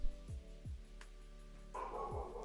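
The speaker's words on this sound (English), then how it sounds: "he's woofing in the background" A pet dog woofs in the background: a couple of muffled, distant barks over a steady musical backdrop.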